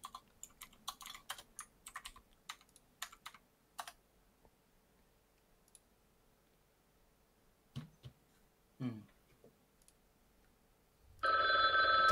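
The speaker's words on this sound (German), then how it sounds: "Telefon." Keyboard typing clicks come in scattered bursts and pauses, followed near the end by a telephone ring starting suddenly, loud and bright against the quiet room.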